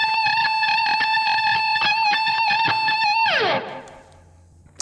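Electric guitar run through a Dunlop Rotovibe-style wobbling phaser or chorus effect, sustaining a steady chord with rich harmonics that warble throughout, then cut off abruptly and leave a short fading tail near the end.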